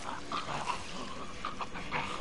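Faint yips and whimpers from a dog in the Resident Evil 5 video game, several short cries in a row over steady background noise.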